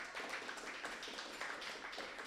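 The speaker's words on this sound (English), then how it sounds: "let's go ahead and give a nice round of applause to Scott Nickle." An audience at an atheist community gathering in San Jose claps steadily to welcome speaker Scott Nickle, a dense, even patter of many hands at moderate distance that continues throughout with no talking.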